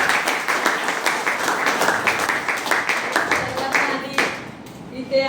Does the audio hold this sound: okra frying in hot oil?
no